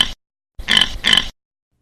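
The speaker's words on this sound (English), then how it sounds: "In real life, a pig sounds like," A farm pig gives two short, close grunting oinks in quick succession after a brief snort, with silence around them.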